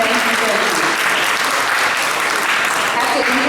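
Sustained audience applause at a Fashion Week Brooklyn event, a dense, steady wash of many hands clapping close and loud with a hint of crowd voices underneath.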